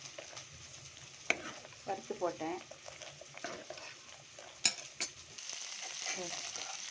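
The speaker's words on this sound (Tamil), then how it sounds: "நம்ம வெங்காயம், கடுகு, வெந்தயம், கருவேப்பிலை, பூண்டு 2 நசுக்கி போட்டுருக்கேன். அதெல்லாம் வதங்குது." Onion, mustard seeds, fenugreek, curry leaves and two crushed garlic cloves sautéing in oil for a cowpea kara kuzhambu: a soft, quiet sizzle with spatula stirs, light scrapes and a couple of sharp clinks.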